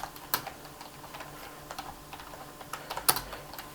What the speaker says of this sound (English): I'm going to just start typing on to show you how easy it is to type.